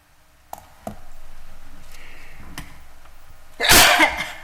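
During a town zoning revision workshop, one loud, sharp sneeze bursts out near the end, after a few faint clicks and soft background noise in a quiet room.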